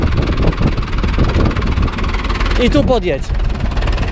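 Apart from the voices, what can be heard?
Ursus C-360 tractor engine running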